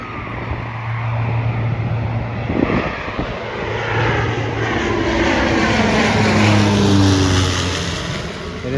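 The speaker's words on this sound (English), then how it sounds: "So this is their Rex Airlines plane." A small Rex Airlines propeller passenger plane passes loudly and close, a sustained droning engine roar with shifting pitch tones that swells and fades slightly across the pass.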